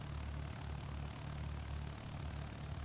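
In Microsoft Flight Simulator, a Bird Dog light propeller plane in flight gives off a steady, droning engine hum that stays constant and fairly quiet, with no talking.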